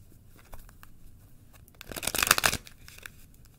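Tarot cards riffle and rustle in a quick crisp burst, with a few lighter taps and shuffles before and after, close by.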